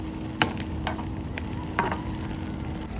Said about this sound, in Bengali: জাস্ট মাছগুলোকে আমি পাঁচ মিনিটের মতো এপিট ওপিট একটু রান্না করে নিব